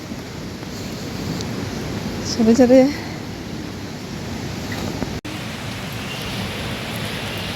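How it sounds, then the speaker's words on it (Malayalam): The Thusharagiri waterfall gives a steady, broad rush of falling water from some distance away, constant throughout. A person speaks briefly over it. "ഇങ്ങനെ വെള്ളം ചാടുന്ന ആ സൗണ്ട് ഇങ്ങനെ കേൾക്കുന്നുണ്ട്"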